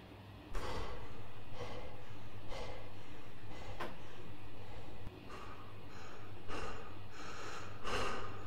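Loud, heavy breathing from a character in a horror video game with menacing penguins: deep rasping breaths repeat at a steady rhythm, close and prominent over a low, constant background hum.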